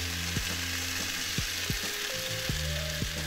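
Broccoli, garlic and lemon juice being stirred in a pan, a steady sizzle of frying underneath several sharp knocks and scrapes of the utensil against the pan, close and fairly loud.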